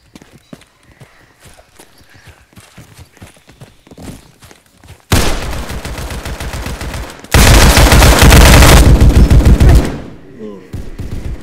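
Loud, rapid automatic gunfire from an FPS shooter video game erupts in dense bursts after a quieter stretch of scattered game noises, with a fierce sustained volley before tapering off.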